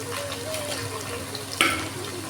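Small shallots and large onions with curry leaves fry in a pan for catfish curry, giving a steady, close sizzle that continues throughout, with a brief sharp scrape of stirring near the end.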